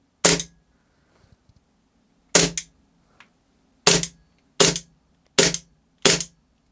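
A Beretta M9A3 CO2 air pistol fires six sharp, close pops spaced about a second or two apart, with near silence between the shots.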